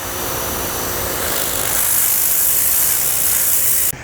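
A battery-powered fan on its turbo setting blows with a steady loud whoosh that swells slightly partway through, then drops abruptly at the end.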